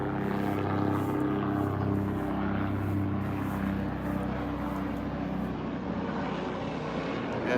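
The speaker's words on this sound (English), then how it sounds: "Sorry about the noise overhead. It's an aircraft." A propeller aircraft passes overhead above a garden, a loud, broad droning rumble that holds steady and slowly fades slightly toward the end, with no talk over it.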